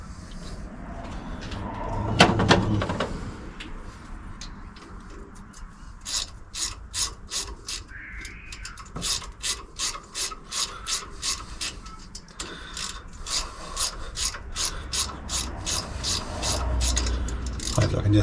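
Ratcheting wrench turning out engine studs during a 350 Holley carburetor install, a long run of rapid rhythmic clicks in bursts with scraping metal handling before, close and fairly loud.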